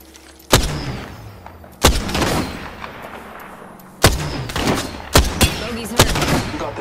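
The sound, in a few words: gunfire in the video game Apex Legends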